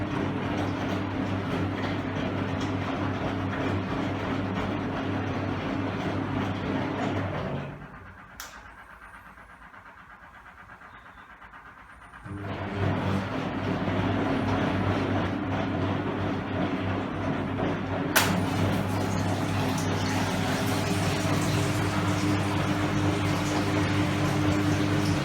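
A Hoover Electra 535 twin-tub washing machine runs its rinse cycle with a steady droning motor hum that drops away to near quiet for a few seconds, then returns at the same level, with a couple of sharp clicks.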